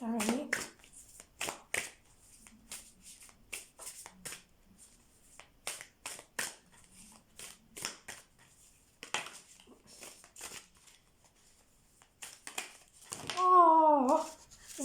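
A deck of tarot-style cards is shuffled by hand in a series of quick, light riffles and slaps, some cards spilling out, with a person talking softly near the end.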